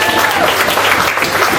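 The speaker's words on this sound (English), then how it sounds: "Can we give them a round of applause for that?" Loud, close applause from wedding guests during the speeches, a dense burst of clapping held steady throughout the short stretch.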